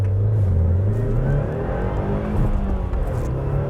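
A 2020 Subaru WRX engine accelerates, heard from inside the car. A steady low engine drone rises in pitch through the gears for a few seconds, with no talking.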